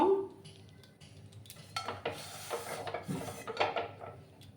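A metal frying pan is set onto a lit gas stove in a home kitchen: a clatter followed by a few short scraping and rubbing knocks, heard close up.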